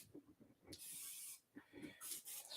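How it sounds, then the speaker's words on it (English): Non-stick cooking spray hisses onto poblano peppers in two soft bursts separated by a short pause, heard quietly at close range. "Let me spray them with our non-stick cooking spray."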